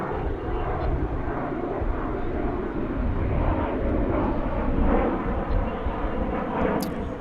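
A Boeing 777 airliner passing over DFW airport, a broad steady jet engine roar that swells slightly midway and holds loud and continuous throughout, with no voices.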